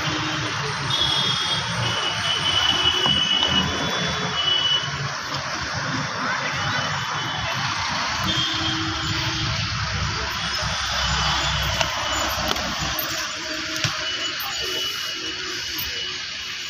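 A fixed-wing airplane passes overhead outside a lassi shop by a road in Asansol, a steady broad engine roar that holds fairly evenly throughout against background street noise.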